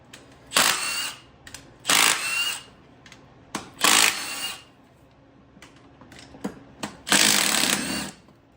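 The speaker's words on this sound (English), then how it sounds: "Last step on this intake before we can rip it off is just getting all these bolts out" Bolts come off the intake of a Ford Mustang Foxbody in four loud bursts of power-tool whirring, each about a second long. Small clicks and tool handling fill the quieter gaps between them.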